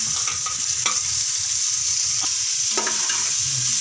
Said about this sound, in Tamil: இது கூட எல்லாத்தையும் ஒன்றா கிளறி விட்டுக்குங்க.